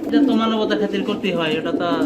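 Male and female pigeons of Lahori or Sirazi breed coo steadily and closely, a low throaty warble filling the short stretch without pause.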